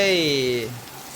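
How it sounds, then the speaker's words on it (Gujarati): Steady rain pattering and hissing throughout, with a voice talking over it for the first half before the rain continues alone. "આમાં પાછો વરસાદ થયો ચાલુ"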